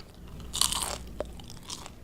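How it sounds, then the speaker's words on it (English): A crispy French fry with a new, improved coating crunches sharply when bitten, one loud close crunch followed by a few smaller crackles of chewing. "Listen to that crunch."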